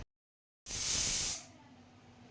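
A pressure cooker of mutton curry vents steam in one sudden, loud hissing burst lasting under a second after silence, then fading to a low residual hiss.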